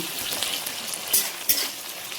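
Chopped tomato sizzles in a pan with fried onion, salt and a little sugar. The frying is steady and close, with a couple of sharp clinks from a utensil stirring.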